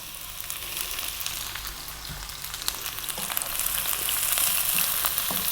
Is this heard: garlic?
yes